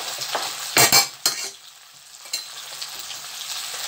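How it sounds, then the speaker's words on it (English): Onion, garlic and fresh pepper stirred into a sausage and bacon stir fry, with a few sharp utensil scrapes against the pan over a soft, steady sizzle, close by. "Stir it together, guys."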